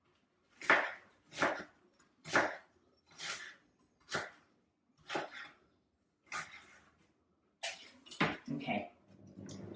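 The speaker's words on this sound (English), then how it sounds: "when you chop the other way, then the onion will stay together as you chop" A knife chops an onion on a cutting board in a home kitchen, giving about ten crisp, evenly spaced strokes close up, ending in a short cluster of clattering knocks.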